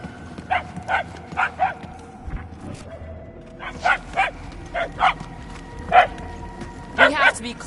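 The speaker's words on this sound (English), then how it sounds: "The barking is getting fainter." Repeated short barks from a dog in the video game Guardians of the Galaxy, coming in spaced bursts of two or three, with a steady background hum and faint voices underneath.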